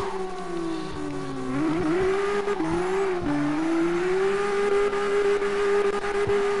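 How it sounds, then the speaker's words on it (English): A car engine redlines while drifting in fifth gear, holding a loud, strained high-pitched whine that wavers in pitch. Tire squeal runs under it and continues steadily throughout, with no talk. "you see it still drifts in fifth gear, whether I keep it in or not"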